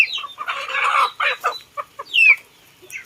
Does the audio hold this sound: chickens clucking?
yes